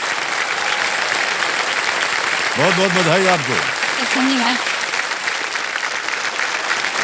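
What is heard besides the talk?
studio audience applause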